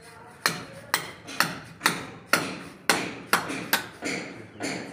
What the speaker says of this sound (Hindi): आपको सरिया ठोक लेनी